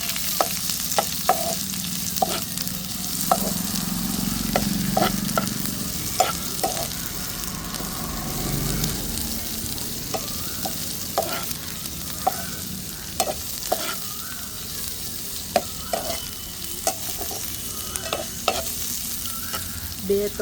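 Paneer and capsicum stirred in a pan over a traditional desi chulha, a spoon scraping and clacking against the metal in irregular strokes over a soft background sizzle of frying, close and fairly clear.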